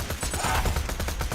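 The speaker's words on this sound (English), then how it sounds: "let's try out her SMG" Rapid burst of SMG fire in the Borderlands 2 video game, a dense run of evenly spaced shots rattling loudly and continuously.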